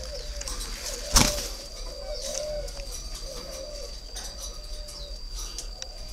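Breeding pairs of cu doves coo in drawn-out, repeated calls close by, with a sharp clack and some light fluttering early on, no voices.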